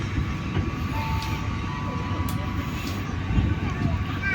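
Matarmaja passenger train pulling out of Cirebon Prujakan station, a steady, dense rumble of rolling wagons that holds throughout with a slight swell near the end, and faint voices may sit underneath.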